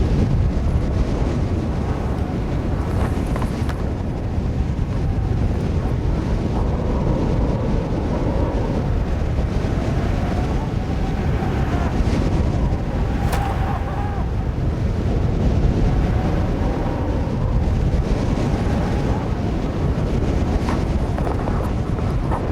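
Strong wind buffets an exposed mountain corner, a continuous loud roar and gusting rush across the microphone with no pause.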